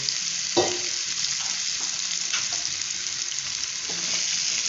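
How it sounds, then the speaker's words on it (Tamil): Raw banana pieces fry in a hot pan with asafoetida, giving a steady, close, dense sizzle broken by a few brief stirring knocks, with no voices. "அப்படியே கொஞ்சம் ஃப்ரை பண்ணுவோம்"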